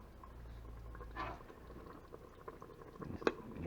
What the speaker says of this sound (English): You see how hot that is? Starting to boil.